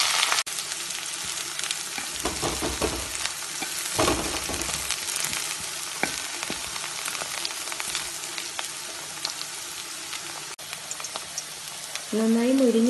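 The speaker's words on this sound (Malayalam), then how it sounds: "ഇതിലോട്ട് നമുക്ക് പഴം ഇട്ടെടുക്കാം. ഫ്രൈസിയായി നമുക്ക് ഫ്രൈ ചെയ്തെടുക്കാം." Ripe plantain frying in hot coconut oil, a loud continuous sizzle with a few stirring scrapes early on and a brief voice near the end.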